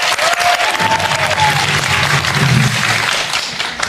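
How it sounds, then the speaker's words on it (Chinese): A studio audience on a television quiz show breaks into loud, sustained applause, a dense wash of clapping close by, with a brief voice heard under it early on. "来，掌声鼓励。"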